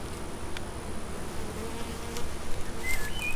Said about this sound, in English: Look at all the bees we are about to have